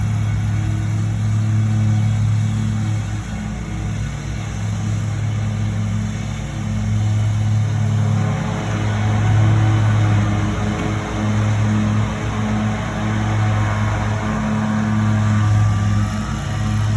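Lawn crew's leaf blower running steadily in a residential area, a continuous droning engine hum with a broad airy hiss, fairly loud and unbroken throughout, with no talking.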